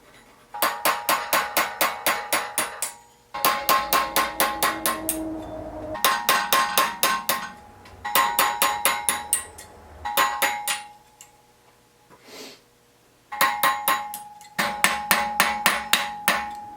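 Hammer driving chisels into metal, rapid bursts of sharp ringing taps in groups of about eight to ten strikes, repeated several times with short pauses between, close and clear.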